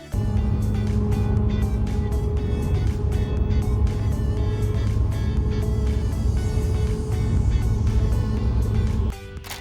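A car travels along a road with a steady close engine drone and tyre roar, brief clicks scattered over it, and the engine note drops away near the end.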